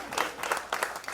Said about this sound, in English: I was clapping quietly.